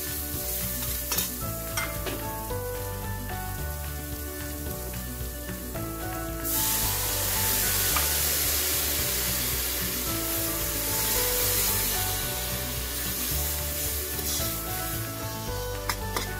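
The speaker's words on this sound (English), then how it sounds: "My potatoes are gently frying on the pan." Potato rounds sizzle steadily in a hot pan with a constant hiss. Partway through the sizzle gets louder and brighter, and a spatula scrapes now and then.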